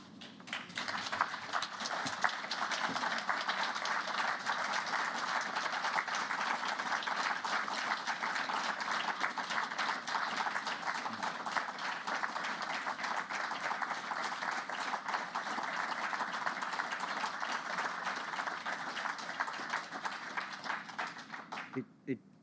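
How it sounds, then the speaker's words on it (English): Prolonged applause at an inquiry hearing: a fairly distant, even roar of many people clapping that carries on without a break for over twenty seconds, then stops suddenly. "It doesn't surprise me at all that you've had the prolonged applause which you have"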